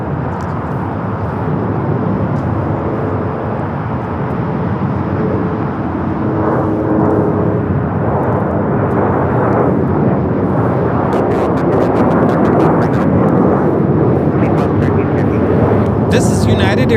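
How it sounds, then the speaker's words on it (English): United Airlines Boeing 737-900ER jet taking off at Los Angeles airport in heavy wind, a loud rumbling engine roar building and holding, with voices talking over it. "Airlines 2667 taking off to Washington Dulles on the 737-900ER"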